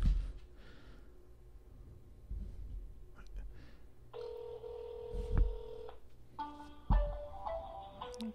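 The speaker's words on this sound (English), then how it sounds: "And you can see I made a call, and there we go." Call being placed on a OnePlus One smartphone on AT&T, with a steady electronic tone and a second ringback-style tone over low room noise and soft movement, close and moderately loud.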